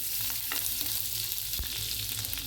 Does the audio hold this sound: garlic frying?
yes